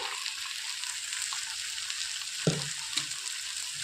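Potatoes for a cauliflower curry sauté in a pan with onion and garlic, making a soft continuous sizzle broken by a couple of distinct utensil knocks near the end. The sound is close but fairly quiet, with no talking.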